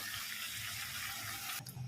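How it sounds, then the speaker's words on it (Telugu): Hot water poured into a cooking pot of mint and meat before pressure cooking, a short close rushing pour that cuts off sharply near the end, with no voices. "అలాగే ఇప్పుడు హాట్ వాటర్ పోసుకోవాలి."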